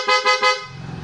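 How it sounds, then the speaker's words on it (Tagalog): PIAA horn fitted to a Honda ADV160 scooter, three quick loud honks in a row, sharp and close, followed by a faint low rumble. "Just a loud horn."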